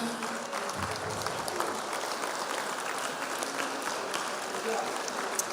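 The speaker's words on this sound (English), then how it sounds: "A round of applause for them." Applause from the audience at a Republican forum for Illinois governor candidates, a steady wash of clapping from a large room that stays even throughout.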